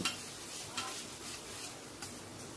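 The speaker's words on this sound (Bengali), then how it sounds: "জল দিয়ে মশলাগুলোকে ভালো করে কষিয়ে নেবেন" Masala spice paste cooked down with a little oil and water in a pan for a chicken curry, a soft continuous sizzle with occasional spoon scrapes, quiet and close, no speech.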